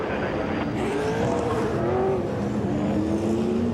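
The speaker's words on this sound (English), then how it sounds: "the rest of the field's just going past the accident scene there at the moment, coming onto the front straight" V8 Supercars race cars roar past steadily at Pukekohe Raceway in 2007, a loud, continuous engine drone with rising and falling pitch as the field streams by.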